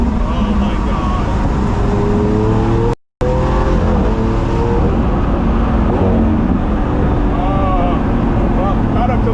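A Lamborghini Aventador engine accelerates with a loud, sustained roar and rising pitch, filling the cabin while a driver speaks over it; there is a brief dropout partway through.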